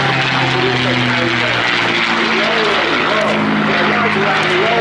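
A P-51D Mustang propeller fighter, 'Ferocious Frankie', drones loudly overhead at an air display in Jersey, its engine roar sweeping and shifting in pitch as it passes, steady for several seconds.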